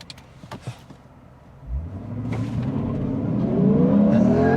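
A 2023 Lexus IS 500 F-Sport Performance V8 fires up and accelerates hard from a launch, its engine note climbing through the revs and growing louder and steadier, heard from inside the car.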